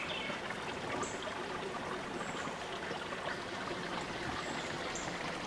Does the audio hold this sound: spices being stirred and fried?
no